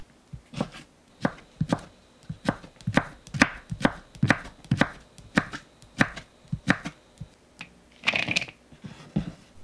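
A knife cuts golden zucchini into thin julienne strips on a cutting board, making a quick run of crisp, evenly spaced chops close up with no voices.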